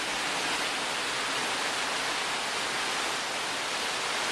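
Steady, even rainfall on a rainy afternoon in Costa Rica, a dense hiss of drops that stays constant and moderately soft throughout.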